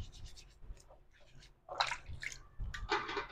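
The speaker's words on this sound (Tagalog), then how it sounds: "Hugasan ko muna to." Balut eggs are swished and rubbed in water, giving close splashing, sloshing and scraping in uneven bursts.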